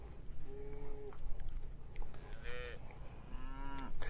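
Corriente cattle with purple ear tags in a river pasture let out three separate drawn-out moos, spaced a second or so apart, fairly close, against a steady outdoor background.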